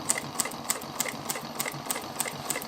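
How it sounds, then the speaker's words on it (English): A Juki 1541 triple-feed industrial walking-foot sewing machine stitches through four layers of vinyl upholstery material, giving a steady, rapid, fairly quiet ticking rhythm with no talking. "while I'm sewing, my bobbin is winding"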